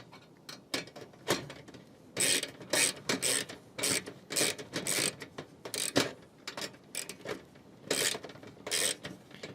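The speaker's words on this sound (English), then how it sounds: "So now I'm going to put my ratchet on my nut driver" Ratchet fitted on a nut driver snugging down a nut on a bird feeder lid, giving irregular bursts of close, crisp clicking with short pauses between strokes, no voices.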